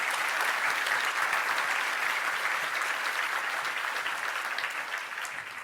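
An audience at a 2023 law enforcement awards ceremony applauds the nominees with a dense, sustained round of clapping that fades slightly toward the end.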